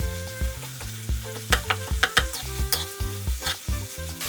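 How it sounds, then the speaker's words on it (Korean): Sliced onion, green onion, bacon and zucchini are stir-fried in a pan, giving a steady sizzle broken by a rhythmic series of spatula scrapes and taps, close and moderately loud, with no talk. "썰어둔 양파, 대파, 베이컨, 애호박을 넣고 달달 볶아줍니다."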